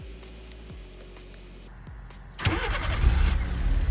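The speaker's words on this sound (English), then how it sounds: "And here you go, the car is running." A quiet lull with a few faint clicks, then a Kia Soul's engine cranks by remote start and catches at once, settling into a steady, fairly loud idle nearby.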